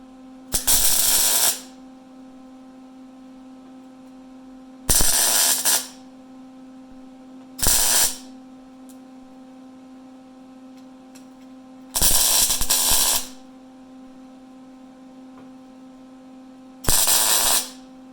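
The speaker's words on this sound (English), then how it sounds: "So I'm going to weld this on or tack this on" A MIG welder lays five short tack welds on a rear valance patch panel for a 1973 Ford Ranchero GT, each a loud crackling burst of a second or so separated by quiet pauses over a steady electrical hum.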